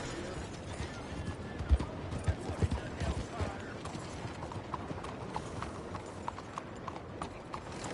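Horse hooves clip-clopping at a steady walking pace in Red Dead Redemption 2, moderately close, with faint creaks and mechanical rattles around them.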